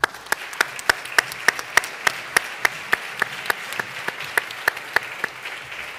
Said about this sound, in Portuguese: Desde já, um forte aplauso para ela.